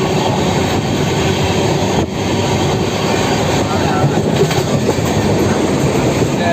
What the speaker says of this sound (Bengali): ট্রেন আমাদের ছুটবে গন্তব্যের দিকে